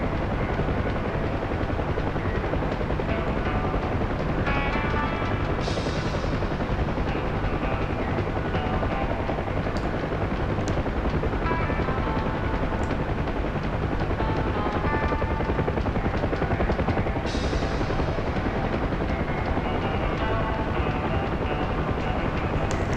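A UH-1 Huey helicopter in the DCS flight simulator drones on continuously, its rotor thump and turbine whine holding a steady loud level, with faint radio chirps now and then.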